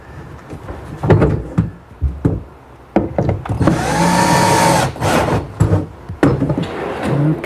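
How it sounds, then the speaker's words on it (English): Power drill bores a pilot hole through the front of a wooden tray, a whirring burst lasting a couple of seconds between sharp wooden knocks and handling clatter, close and fairly loud. "First I'll drill a pilot hole through the front of the tray."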